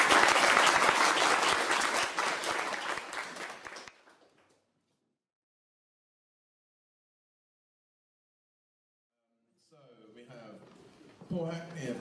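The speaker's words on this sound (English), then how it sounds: "if you give all our speakers a quick round of applause" An audience at a sustainability event gives a round of applause for the speakers, dense clapping that fades after about four seconds into silence, then a voice starts talking.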